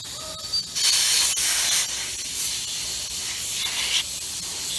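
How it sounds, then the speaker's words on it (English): Compressed air blows in short hissing bursts onto a solenoid coil from an MWD top mount pulser being serviced, close and loud, with a longer spray near the start and brief puffs later. "So I'm gonna take the compressed air again."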